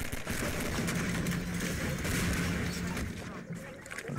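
Gunfire in a Half-Life 2 firefight, a dense, continuous barrage of shots and booms blended with game effects, loud and steady from start to finish with no clear gaps.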